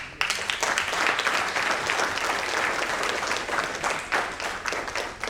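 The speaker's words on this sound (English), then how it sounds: "One round of applause for Nishan." Audience applause at a company annual event, given for a person named Nishan: a sustained, even wash of clapping from a large crowd, starting abruptly and holding steady throughout.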